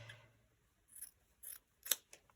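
Scissors cut bright green fabric in four or five quiet, separate snips, each a short crisp crunch with brief silence between, the last one the loudest.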